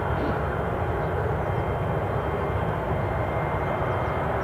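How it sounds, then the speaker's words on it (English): A Ryanair jet departing Newcastle International airport for Shannon roars steadily at fairly close range, a broad, continuous engine rumble throughout. "First Ryanair departure, according to my screen, is 16:35 to Shannon."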